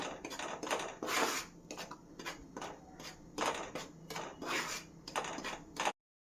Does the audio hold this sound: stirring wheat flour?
yes